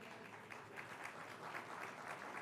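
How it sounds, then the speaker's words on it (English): A crowd applauds entrepreneurs at a business awards gala, a steady wash of clapping that stays faint and distant throughout without any voices over it. "I think this calls for a round applause, big applause for all our entrepreneurs"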